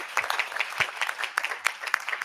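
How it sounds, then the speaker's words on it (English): Audience at a school board meeting applauds a departing board member, a steady close patter of many hands clapping for a couple of seconds with no talk over it. "I really do think if we can give Mr. O'Neill a round of applause"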